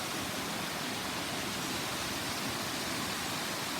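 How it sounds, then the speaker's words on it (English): Stock Ghyll Force waterfall in the Lake District pours in a steady, broad roar, dense and unbroken throughout, with no voices. "There's more waterfall up there."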